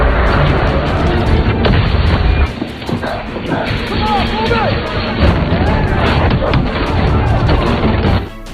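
Heavy gunfire barrage with booming artillery-like blasts and crashes, dense and loud throughout, in an action sequence from the 2022 film Samaritan, with a voice audible under the din.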